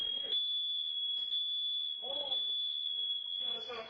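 A home alarm blares as one steady, shrill, unbroken tone throughout, with intermittent speech over it.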